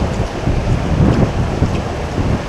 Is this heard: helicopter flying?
no